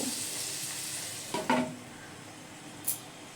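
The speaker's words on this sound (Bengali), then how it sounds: "এবারে এগুলোকে নেড়ে চেড়ে নিয়ে পাঁচ থেকে দশ মিনিটের জন্যে ঢেকে রেখে ভেজে নেব" Potatoes for a cauliflower curry fry in a pan with a steady, close broadband sizzle, broken by a couple of brief stirring scrapes and a light clink of a utensil near the end.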